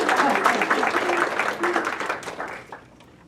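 A seated audience at a talk on multifaith understanding claps warmly for a newly ordained woman being introduced, a dense burst of applause that holds steady and then fades out over the last second.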